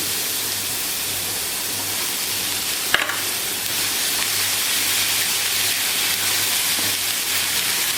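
Chopped onions sizzle steadily in a hot pan for a cauliflower sabzi, a loud continuous hiss of frying with one sharp utensil knock against the pan, and no talk.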